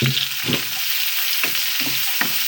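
Chopped ginger and chili frying in oil, a loud close sizzle with four or five rhythmic spatula scrapes spaced about a second apart, nobody speaking.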